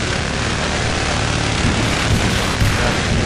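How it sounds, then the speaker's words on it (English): An enemy helicopter roars in a Battlefield 3 multiplayer match, a loud, steady broadband rotor and engine drone that fills the whole stretch without pause. "Enemy chopper in the air over B"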